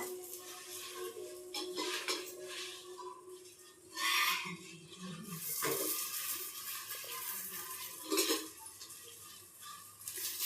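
Green chili and peanuts stirred in a pan for a Tamil New Year dish, a steady low sizzle with scattered scraping and clinking of a spoon against metal, a few louder scrapes standing out.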